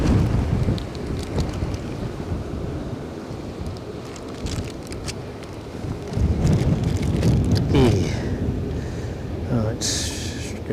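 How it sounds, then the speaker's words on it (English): Storm Floris wind gusts at Edinburgh Airport buffet the microphone in a loud, rushing roar that swells and surges, rising strongly in the latter half with brief rattling bursts. "Hey, wind's back."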